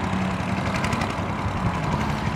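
A 1965 Cushman two-speed scooter engine held in low gear, running with a steady, rough, loud close-up putter throughout.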